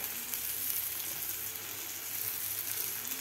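Boiled brinjal being sautéed in oil in a pan, a steady close sizzle and frying hiss running throughout with no pauses and no talking.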